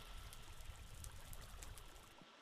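Water in Minecraft pouring down after a creeper explosion opened its path, a steady close rushing trickle that holds without a break and then cuts off near the end, with no voices.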